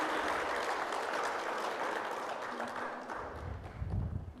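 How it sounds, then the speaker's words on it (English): Audience applause at the Miss Navajo Nation pageant, a soft, distant-sounding clapping crowd that thins toward the end, with some low thumping near the close. "Round of applause again, ladies and gentlemen."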